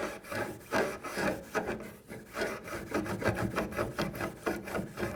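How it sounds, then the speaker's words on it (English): A rag rubs sticky rosin residue off the strings of an upright bass. About ten quick scrubbing strokes come close up in a steady, rhythmic back-and-forth rasp, with no talking. "Getting the residue off has a nice, lovely sound that sounds like this."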